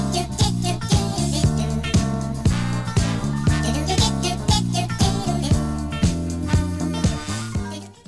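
An original disco track plays with a punchy repeating bass and drum groove under bright melodic lines, loud and continuous throughout.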